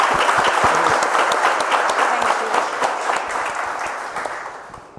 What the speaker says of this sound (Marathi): परत एकदा टाळ्या झाल्या पाहिजे सगळ्यांना